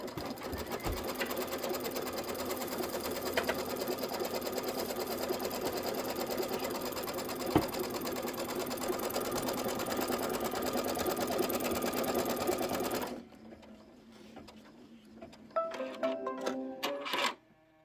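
An embroidery machine stitches a placement line on background fabric rapidly in a steady mechanical rattle, then stops, followed by a few quieter clicks and mechanical noises.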